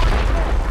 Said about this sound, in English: Throwing grenade in.